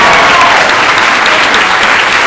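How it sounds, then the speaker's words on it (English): Dense audience applause for speakers at a science debate, loud, steady and close, filling the whole short stretch. "let's give a big round of applause to all our speakers today"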